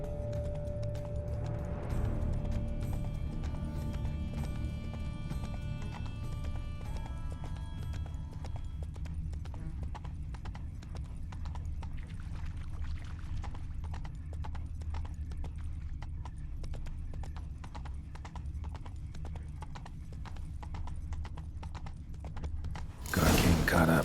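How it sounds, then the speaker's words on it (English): Horses in the Witcher 3 video game clop steadily on a road, a rhythmic run of hoof beats with a whinny early on, fairly faint beneath a voice, ending in a sudden loud burst. "Horses must have gotten spooked."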